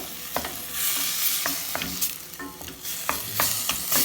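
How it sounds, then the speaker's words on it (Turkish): Peppers and two tomatoes being sautéed in a pan, with a continuous sizzle broken by repeated clinks and scrapes of a spoon stirring, close up and with no talking. "Şimdi tom, iki tane domatesin üstüne ilave ediyorum. Kavurmaya devam ediyorum."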